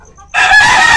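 A rooster crows loudly and very close, one sharp, bright call cut off after a split second, with faint cheeping beforehand.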